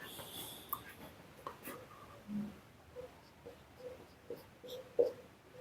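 Marker or chalk writing on a board during an Indian economy lecture: scattered short scratchy strokes and taps, faint and intermittent in a quiet room, with no talking.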